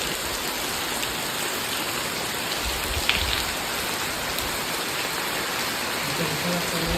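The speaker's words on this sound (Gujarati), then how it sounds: "અત્યારમાં વરસાદ ચાલુ થઈ ગયો છે." Steady rain falling outdoors in an evening downpour, a dense, even hiss of drops on surfaces, fairly faint, continuing for several seconds with a single brief knock partway.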